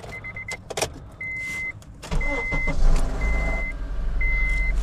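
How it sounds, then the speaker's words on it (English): A Honda CR-V engine cranks and starts, followed by a steady running idle with a rattly mechanical noise from a worn cam (VCT) actuator, while repeated electronic chimes beep over it at close range. "It has the cam actuator here making noise in the morning."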